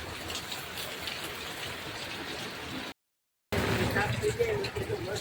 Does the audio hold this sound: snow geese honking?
no